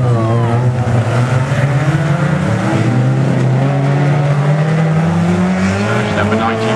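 Race cars lap the Standlake track in December, engines holding a steady, loud droning roar that rises and falls slightly as they circle, with a faint voice underneath.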